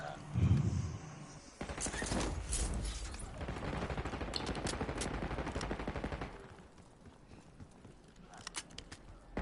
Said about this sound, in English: He's still shooting